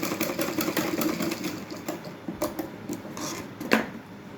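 A sewing machine stitching a palazzo trimmed with gota patti work, quiet and close, with a rapid run of rhythmic stitching pulses at first, then scattered clicks and short bursts.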